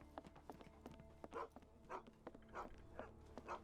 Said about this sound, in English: She owns 2 dogs.